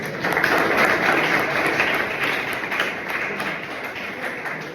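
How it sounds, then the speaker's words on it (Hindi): An audience at a lecture in a pharmacy college hall claps steadily, a dense, continuous wash of applause from many hands that holds loud throughout before easing slightly. "ताली बजाइए उसके लिए"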